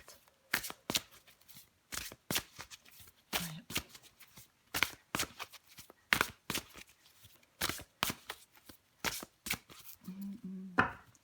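Tarot cards being shuffled by hand in repeated crisp riffling bursts, close and fairly quiet, with short pauses between shuffles.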